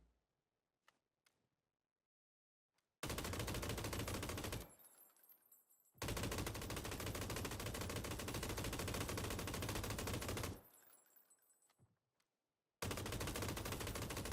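Heavy automatic gunfire from a big gun in PUBG, fitted with a heavy stock, in two long sustained bursts of rapid shots separated by short pauses, loud and close with no talking.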